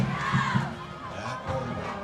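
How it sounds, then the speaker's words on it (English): A varsity high school football crowd cheers and shouts in a steady, dense roar from the stands, loud and continuous throughout. "As this crowd is fired up."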